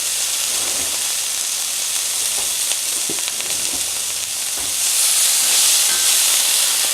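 White shrimp going into a hot skillet, a continuous loud frying sizzle with light stirring ticks, swelling brighter near the end, no talking.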